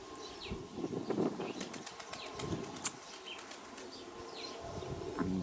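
Pigeons flying overhead, with soft fluttering wingbeats coming in waves over a steady outdoor background. No one speaks.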